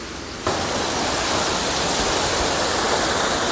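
Glacial meltwater pours down a channel beside a monastery in a remote Himalayan village, a loud, steady, close rushing roar that starts abruptly and then stays constant without any talk.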